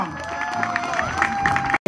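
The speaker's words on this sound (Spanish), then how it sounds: "Un aplauso para Mama Rosa" Crowd at a roundabout inauguration in honour of Mama Rosa clapping and cheering steadily, with whoops and voices mixed into the applause until it cuts off abruptly.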